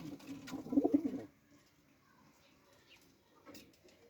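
Pigeons at a rooftop loft coo in a low, throaty burst close by during the first second, then only faint scattered rustles and distant bird sounds follow.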